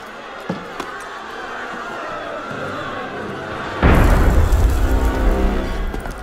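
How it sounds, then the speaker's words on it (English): Cannon fire in Assassin's Creed Unity: a sudden heavy boom erupts partway through and rolls into a loud, rumbling roar that persists, after a quieter stretch with a couple of soft thumps. "That was cannon fire"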